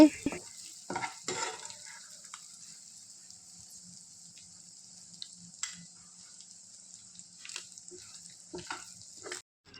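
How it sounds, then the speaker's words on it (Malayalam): Prawns fry in hot oil as a spoon scoops them out, with a continuous thin sizzle broken by irregular scraping and clinking strokes against the pan. "ഇനി നമുക്ക് ചെമ്മീൻ ഒന്ന് കോരി മാറ്റിയെടുക്കാം കേട്ടോ എണ്ണയെല്ലാം ഊറ്റിയാണ് കേട്ടോ കോരി എടുക്കാനായിട്ട്"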